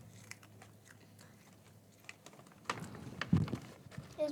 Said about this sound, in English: as you're eating your chickpeas and crunching your chickpeas